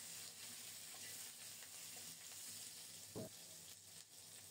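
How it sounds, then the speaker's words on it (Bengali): Potatoes with slit green chilies and salt sizzle steadily in a pan while being stirred, a continuous close frying hiss with a soft scrape of the spatula partway through. "নেড়ে চেড়ে আরো কিছুক্ষণ আলুটাকে কষিয়ে নেব।"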